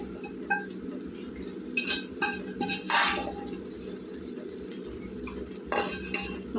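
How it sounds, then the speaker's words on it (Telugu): Boiled mutton pieces go into a pot of fried masala, with clinks of a metal spoon against the pot, soft wet plops and a few stirring scrapes, close but fairly quiet and without talking. "మాంసం ముక్కలు వేసుకుందాం ఇందులోకి."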